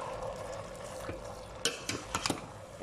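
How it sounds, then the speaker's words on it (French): Minced meat for a bolognese browns in a pan at a low, steady hiss, broken by several sharp scraping clicks of stirring in the second half. "j'ai rajouté la viande à la bolo. Donc on la fait revenir un peu."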